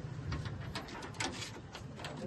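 White-eyed Giribaz pigeons coo softly in a loft, low murmuring calls repeating under a steady background hum, fairly close.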